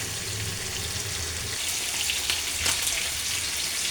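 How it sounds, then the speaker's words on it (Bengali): Rohu fish pieces frying in oil in a pan, with a steady, moderately loud crackling sizzle throughout and a few brief clinks of a utensil, no voices. "এখন আমি এই পিঠও ভালোভাবে ভেজে নেব"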